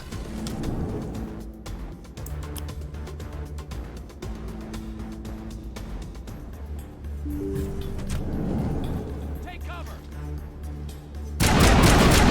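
Bursts of gunfire in the Mass Effect video game crackle repeatedly over a steady low hum and game sounds, ending in a louder noisy blast.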